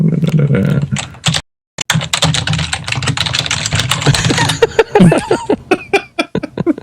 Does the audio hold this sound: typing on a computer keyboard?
yes